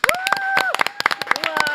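A studio audience claps to welcome a guest onto a talk show, sharp close hand claps and whoops mixed with excited voices and cheering.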